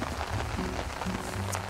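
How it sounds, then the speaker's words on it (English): Rain falling steadily and growing heavier, a dense patter of drops on a surface with low rumbling beneath, continuous and close throughout. "it's starting to rain harder now"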